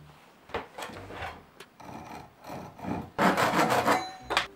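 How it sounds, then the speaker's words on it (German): A hand saw rasps through scrap wood in uneven back-and-forth strokes, close by, growing louder and denser toward the end. "Ich säge mir ungefähr 2 cm davon ab."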